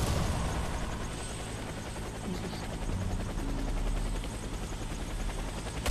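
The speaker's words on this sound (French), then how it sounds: "Allez, rentre dans l'hélico." A helicopter thrums loudly and continuously in the Warface video game on PS4, rotor chop dense and close, with faint scattered gunfire in the background.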